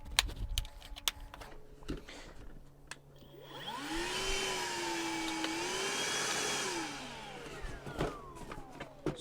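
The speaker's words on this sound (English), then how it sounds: "now we'll put the battery on and test it on our Tercel and see how efficient this vacuum is" A Milwaukee M18 cordless vacuum starts up with a rising whine, runs steadily for a few seconds, then winds down, surrounded by clicks and handling noises in a car interior.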